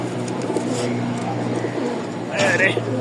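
A male Rajshahi Giribaz pigeon in breeding mood coos in low, steady repeated tones, with a brief brighter call near the end and a voice murmuring underneath.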